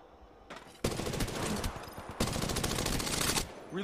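Rapid automatic gunfire in Apex Legends rattles loud in two sustained bursts, close and dense, with a short gap between them and no talk over it.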